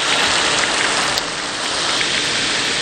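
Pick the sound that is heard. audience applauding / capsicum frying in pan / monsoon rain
monsoon rain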